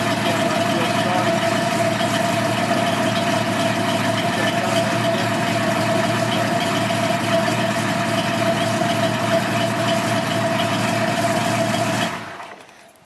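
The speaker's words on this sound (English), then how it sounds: "it's got a nice rumble to it" A 428 Cobra Jet V8 in a 1969 Mustang Mach 1 idles through an aftermarket exhaust with a steady, deep rumble, loud and constant before cutting off near the end.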